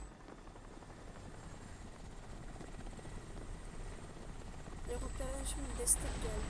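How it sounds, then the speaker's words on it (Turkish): A helicopter's rotor in the video game Crysis chops in a steady, dense pulse at a distance, growing a little louder toward the end, with faint voices in the background. "Psycho, helikopteri izleyebilir misin?"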